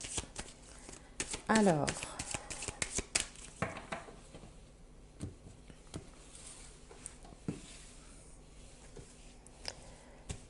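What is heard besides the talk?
tarot cards being shuffled and drawn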